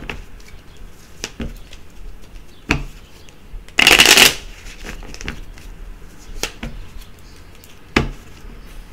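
Lenormand cards shuffled by hand in a quiet room, a soft steady riffling with several sharper snaps and one louder burst of flicking partway through.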